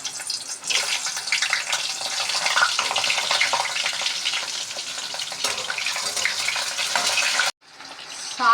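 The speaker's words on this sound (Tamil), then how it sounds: "கத்திரிக்காவை ஃப்ரை பண்ணலாம்." Brinjal pieces frying in hot oil for a Tamil brinjal gravy: a dense, steady sizzle and crackle that runs loud and unbroken, then cuts off abruptly, with a short, different clatter at the very end.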